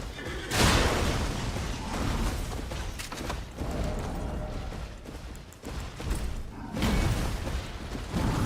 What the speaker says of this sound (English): That looks sick with this exploding exploding bolts.